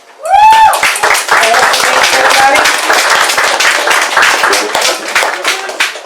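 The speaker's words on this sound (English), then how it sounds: "Can we give it up for Casey Walsh" Open-mic audience clapping and applause rise quickly and continue steadily at full volume, a voice briefly audible at the start.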